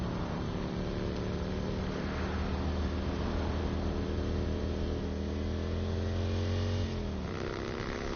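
A motorcycle engine in a PS4 video game drones steadily and loud throughout, its pitch holding level and then dropping slightly near the end.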